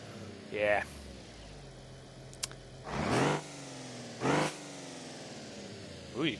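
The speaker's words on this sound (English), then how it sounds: "Ooh, you can hear the turbo more." In BeamNG.drive, a turbocharged car engine gives several short revving bursts spaced a second or so apart, moderately loud over a low idle, with voices talking in between.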